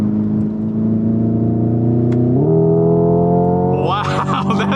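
Simulated engine sound from a 2025 Hyundai IONIQ 5 N electric car lugged in a high gear on a track: a loud, steady synthetic drone that climbs slowly, steps up in pitch, then rises into a rougher, revving roar.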